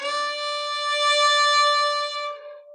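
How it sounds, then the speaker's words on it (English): A single sustained bowed fiddle note that swells louder in the middle and then tapers, its rich harmonics fading before a soft ending. "we kind of start the note and then speed the bow up in the middle and then taper it off"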